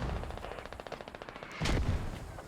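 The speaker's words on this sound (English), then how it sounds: "And mortars coming down on the radio location" Mortar rounds land in the military shooter game Squad, a heavy thump of impacts following a rapid run of distant gunfire cracks.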